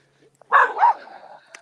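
A dog barks at a neighbor outdoors, two quick close barks in a row followed by a faint trailing whine, then quiet.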